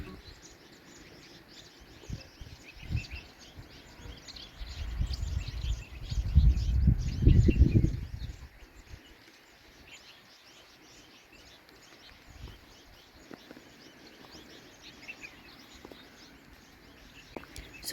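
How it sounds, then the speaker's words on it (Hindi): Faint bird chirps scattered outdoors, partly covered by a burst of wind rumble in the middle. "और अभी चिड़िया की आवाज़ आ रही है, सुनो आप भी।"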